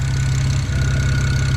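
A built BMW 335i with the N54 engine runs steadily with an exhaust leak, giving a loud, continuous low idle rumble with a faint ticking texture and no talk over it.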